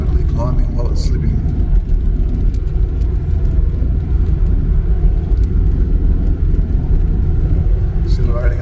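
A Toyota Fortuner towing a caravan accelerates uphill, its engine a steady, heavy low drone with road rumble that holds loud and even throughout, and no clear shifts or bursts.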